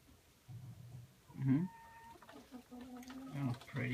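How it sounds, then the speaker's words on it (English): Chickens in a farm shed in a family yard cluck in short bursts of varying loudness, close by, with a few brief vocal sounds and occasional low background noise between the calls. "This is a shed of the chicken."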